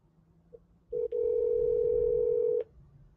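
Phone call tone: a brief blip, then a steady, loud electronic tone held for nearly two seconds, with a faint click at each end.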